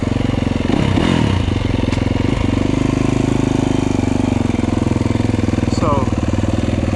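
A Yamaha YZ250FX dirt bike engine lugs at low revs in the woods, a close, continuous chugging rumble with a short throttle surge early on.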